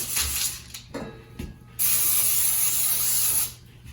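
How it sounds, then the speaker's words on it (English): Cooking spray hisses from a can onto parchment paper lining a cookie sheet, with a few short bursts followed by a longer, steady close-up spray lasting nearly two seconds. "I like to put a little bit of spray to to stick it down"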